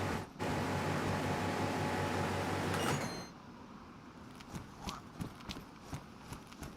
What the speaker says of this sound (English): Can you guys hear the aircon running